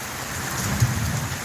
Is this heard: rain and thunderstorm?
yes